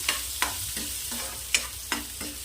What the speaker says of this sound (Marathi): आणि छान कांद्याला असं परतून घ्यायचं आहे